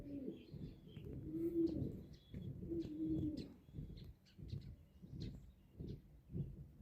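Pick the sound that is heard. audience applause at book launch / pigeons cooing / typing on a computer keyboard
pigeons cooing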